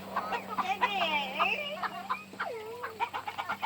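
Cream Legbar and Copper Marans hens clucking in a pen, a busy run of overlapping close and mid-distance clucks and short squawks with a steady low hum underneath.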